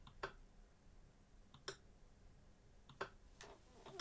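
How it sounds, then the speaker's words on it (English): A Focusrite Clarett preamp relay clicks in, a few sharp crisp clicks spaced about a second or more apart, faint and close against a quiet background. "that's actually the sound of the Clarret preamp clicking in"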